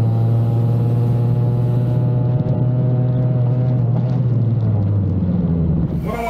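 A Vespa scooter with an SI carburettor held at wide open throttle drones steadily and loudly, then falters as fuel starvation sets in, its pitch wavering and dipping near the end.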